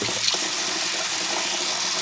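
Tap water pouring into a pot of rinsed rice in a kitchen, a steady close rushing stream with no talking.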